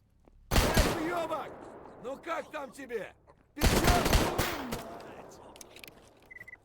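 Gunfire in S.T.A.L.K.E.R. GAMMA rips out in two loud, dense bursts of shots, close and sharp, with a voice talking in the gaps between volleys.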